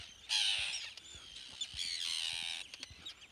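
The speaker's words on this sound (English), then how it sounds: "Birds are freaking out." Agitated birds give harsh, loud squawking calls in two long bursts, with a few sharp, quick cries in between and after, close by outdoors.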